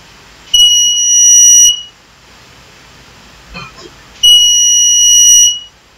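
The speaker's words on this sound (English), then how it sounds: "an alert sound is created by this buzzer" A piezo buzzer on a microcontroller project, set off by an infrared distance sensor, sounds two loud steady high-pitched beeps about a second long each, separated by a pause with a faint brief rustle.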